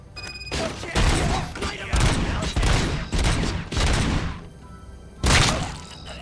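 Gunfire in the video game RoboCop: Rogue City, a dense fusillade of loud bursts and booming impacts rolling over several seconds, with short pauses and a final heavy blast.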